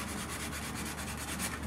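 Sandpaper rubbing steadily over a carved wooden whale or orca totem for a flute, a continuous close scratchy hiss with faint repeated strokes and no talk.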